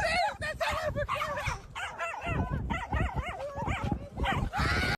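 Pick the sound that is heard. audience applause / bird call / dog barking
dog barking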